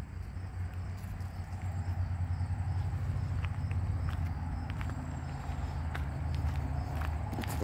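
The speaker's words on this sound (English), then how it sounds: "Bugs." Insects chirp steadily in a cemetery, a faint continuous high trill over low outdoor rumble, with soft footsteps and occasional light clicks nearby.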